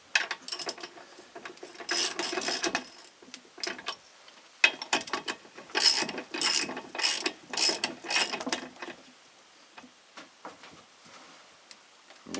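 Ratcheting clicks from a wrench driving bolts on a GMC Sierra rear brake caliper, in quick bursts of mechanical ticking with short pauses between, close and moderately loud with no talk.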